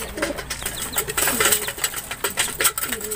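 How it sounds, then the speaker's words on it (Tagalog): Several pigeons feed together, with soft cooing, pecking and rustling, brief wing flutters and scattered clicks in a close, busy coop-like setting. "So pumasok na rin si N2. Ayan, so bali kumakain na sila dyan, mga kalapatids."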